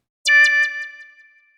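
A single synth lead note from a Harmless preset with vibrato, struck with a bright attack and a few rapid repeating pulses that decay into a thin sustained tone, clean and alone.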